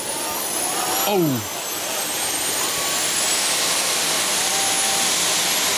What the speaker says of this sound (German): So, die Triebwerke laufen.